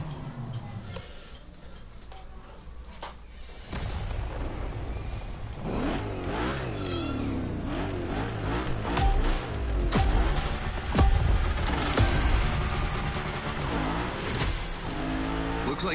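Cars revving and accelerating in The Crew Motorfest, a loud, busy mix of engine sweeps and whines that builds after a quieter ticking opening, with no one talking.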